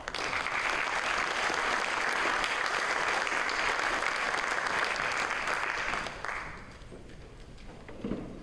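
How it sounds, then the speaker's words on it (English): Applause from a leadership conference audience greets the featured speaker Peter Bonilla, a full, even wash of clapping for about six seconds that then drops away to scattered claps and room quiet. "let's give a round of applause to tonight's speaker"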